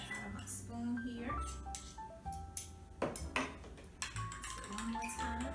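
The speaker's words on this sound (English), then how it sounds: "Give that a good stir." Spoon stirring vegan tuna salad in a bowl, producing light clinks and taps against the dish in irregular strokes, with a person speaking over the kitchen sounds.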